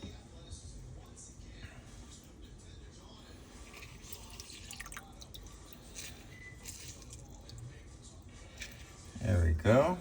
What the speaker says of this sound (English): let's go ahead and add in our 2 lemons squeezed